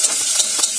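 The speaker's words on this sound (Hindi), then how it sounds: "हम अपने खोए को घी में जरूर भूनें" Khoya frying in ghee in a pan for carrot halwa gives a loud, close, steady sizzle and hiss, with a few soft stirring scrapes.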